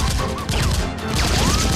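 Toy gunfire in a staged Nerf gun fight film, a dense burst of rapid cracks and clattering shots firing back and forth, loud and close throughout the short stretch.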